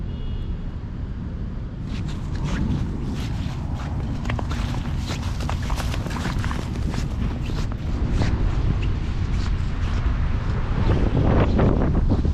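Strong, cold wind at a winter open-water fishing spot buffets the microphone in a constant low rumble, with scattered clicks and knocks on top and no voices.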